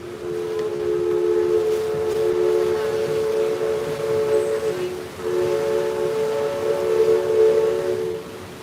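The steam whistle of the Mark Twain riverboat on the Rivers of America at Disneyland blows in two long, loud chord-like blasts separated by a brief gap, echoing over open-air park crowd noise.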